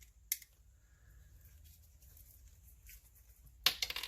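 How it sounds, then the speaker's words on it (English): Small screws being worked loose from a Hot Wheels Ferrari 308 GTS die-cast toy car: faint, close, quiet scraping with a sharp click near the start and a cluster of crisp clicks and rattles at the end. "So we're going to take our screws out."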